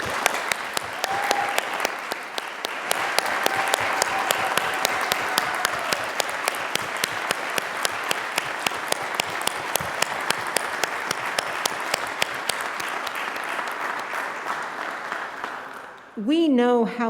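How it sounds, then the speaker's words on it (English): Sustained applause from a graduation commencement audience honoring the families and friends who supported the graduates, a dense steady wash of clapping lasting most of the stretch before it fades and a voice begins near the end. "let's give the people who supported you throughout your education a round of applause"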